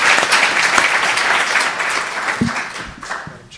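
An audience applauds steadily at the close of a legislative preview panel, a dense wash of many hands clapping that carries on throughout, fading slightly toward the end.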